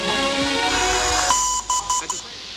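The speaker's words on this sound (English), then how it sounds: "Where's that beeps coming from?" A few short electronic beeps sound in a quick run near the end, following a stretch of steady background noise on an amateur radio crossband transmission.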